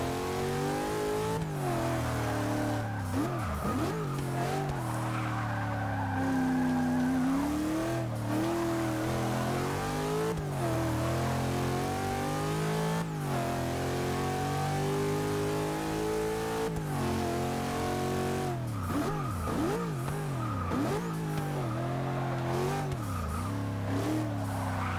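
Engine of a 1991 Jeep Grand Wagoneer in the Forza 6 racing game revs up and down repeatedly, rising and falling as the gears change, with brief tyre skids and no talking over it.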